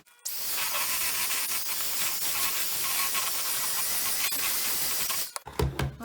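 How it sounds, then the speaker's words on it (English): An electric mixer whirs loudly and continuously through a bath bomb mixture for several seconds, a steady hissing buzz that cuts off near the end, followed by a few knocks. "now I'm going to mix this up again with the mixer"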